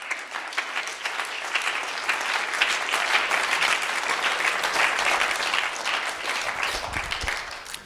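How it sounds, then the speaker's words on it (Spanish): An audience at a Spanish-language sermon breaks into strong applause, a thick, continuous patter of many hands clapping at a steady level, with a low thump near the end. "Fuerte el aplauso."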